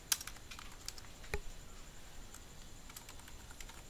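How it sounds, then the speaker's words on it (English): Someone types a password on a computer keyboard, a few soft, sparse key taps and clicks spread over several seconds, quiet and close in a still room, with no talking. "and then I will type my password."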